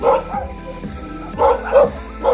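Jindo dogs, including a black-and-tan, give several sharp, close barks in short bursts, with softer whimpering yips in between.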